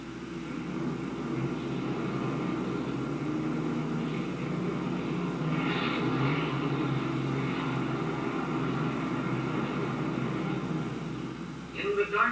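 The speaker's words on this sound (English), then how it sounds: "We are safely down from the air again, and our pilot steers the ship along" A 1938 propeller airliner rolling along the ground after landing, a steady droning engine hum throughout at moderate distance, with someone narrating over it.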